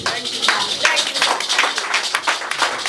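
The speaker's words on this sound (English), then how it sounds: "Somebody clapping for Jesus" A church congregation at a prayer service claps continuously in a dense, bright patter that is loud and sustained throughout, with a voice faintly audible underneath.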